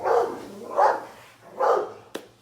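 A dog barks three times in spaced, fairly loud bursts, with a sharp click or knock near the end and no talk over it.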